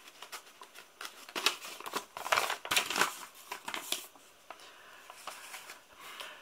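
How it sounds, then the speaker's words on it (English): Folded bits of paper from a film prop wallet are opened by hand, making a run of close crinkles, rustles and sharp crackling snaps in irregular bursts with brief pauses between them. "So I'm just so stuck to opening the other two bits of paper that I've got."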